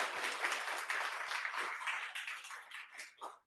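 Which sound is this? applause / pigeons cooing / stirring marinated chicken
applause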